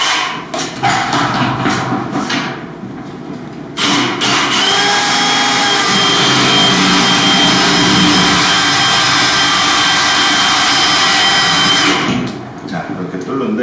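A power drill bores a hole for wires through a gypsum board ceiling. Short bursts of whining give way to one loud, sustained grind that lasts several seconds and then stops abruptly.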